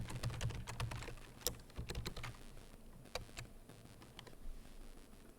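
Keys clattering on a computer keyboard while a purchase order name is entered, irregular bursts of crisp clicks with short pauses, close and fairly quiet.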